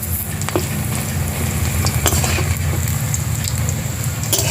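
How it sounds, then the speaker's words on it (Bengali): Jute-leaf fritters sizzle in hot oil in a pan, a dense, steady crackle with scattered sharper pops, heard up close with no talking. "বড়া 1 পিঠ ভাজা হয়ে গেছে, আমি 1 পিঠ বড়া উল্টে দিচ্ছি"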